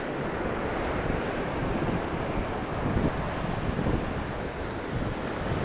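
Surf breaks on an open beach as a constant, loud wash of waves, roughened by wind buffeting the microphone, with no voices.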